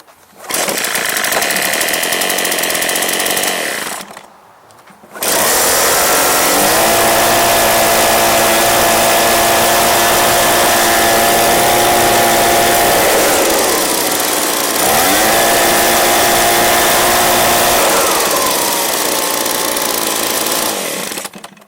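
Echo PB265LN backpack blower engine running loud and close, a steady high buzzing drone that cuts out briefly, then restarts and holds with slight rises in pitch.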